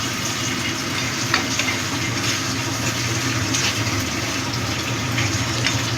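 Crab curry with crab brain sizzles loudly in a pan while being stirred, a steady close frying hiss with faint scraping and clicks from the utensil, no talking.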